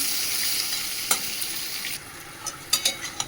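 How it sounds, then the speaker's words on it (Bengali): Eggplant fries in a pan with a steady hissing sizzle, punctuated by a few sharp scraping stirs. "এদিকে বেগুনটাও ভাজা হচ্ছে"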